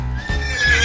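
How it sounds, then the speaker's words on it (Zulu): A horse neighs in a short, fairly loud whinny set against a kids' animal-learning cartoon, the call rising and holding for under a second with no talk over it. "Ihashi."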